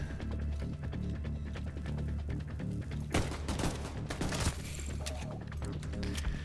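Pistol shots ring out in the shooter game The Division 2, several sharp bursts clustered in the latter half over continuous game sound and ambient noise.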